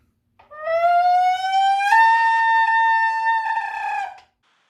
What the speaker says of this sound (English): the second of our team created noises is called an intonaru mori, which is a real futurist instrument, and we made one out of a soda can